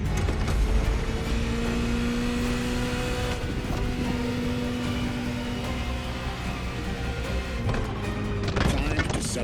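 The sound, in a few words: Ferrari F40 engine in video game The Crew Motorfest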